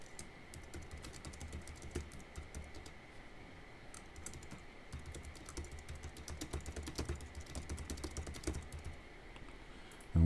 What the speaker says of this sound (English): And once I get started, I can actually type.